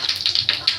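Mustard seeds hit hot oil and pop in quick, sharp, close crackles, several bursts in under a second over a faint background hum.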